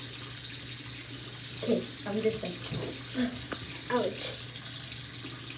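Warm water runs steadily from a tap into a sink, a constant hiss under intermittent talk from a couple of people.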